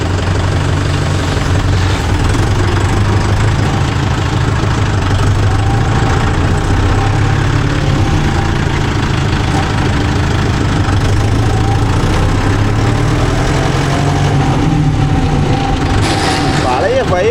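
A Mahindra Yuvo Tech Plus 585 4WD tractor engine idles with a steady, loud low rumble throughout, while a person talks over it.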